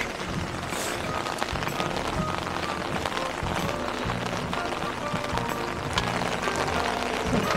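Rain falling steadily on a mountain campsite, a dense continuous patter of drops close by on surfaces, with occasional louder taps and faint background movement.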